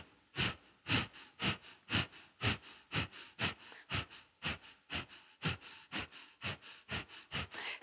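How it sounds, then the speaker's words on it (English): Kapalabhati breathing, a steady run of about fifteen sharp, forceful exhales through the nose, evenly spaced and close, each a short breathy puff snapping from the belly. "Kapalabhati breath."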